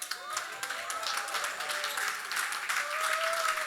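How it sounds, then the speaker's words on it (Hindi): Audience applause during a standing ovation for a chief guest at an Indian event: dense, continuous clapping from a large crowd, steady and fairly loud throughout with slight swells, no voices distinct above it. "please give her a standing ovation"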